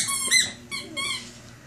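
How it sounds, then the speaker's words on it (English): A squeaky dog toy, played with by a Ridgeback, gives three short, high squeaks close by, the first louder and the next two quick together. "Does that squeaky toy make you do that, Charlotte?"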